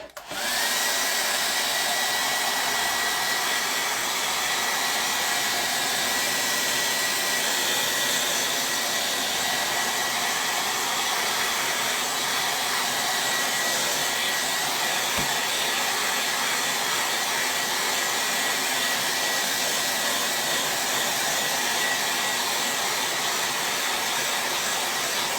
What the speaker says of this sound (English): my blow dryer is very loud